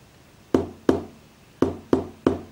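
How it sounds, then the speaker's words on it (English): Five crisp knocks on a speaker tap out a secret-knock pattern for an Arduino solenoid door lock, two quick raps, a pause, then three more, close and clean with no talking. "to unlock this, you have to knock on the speaker."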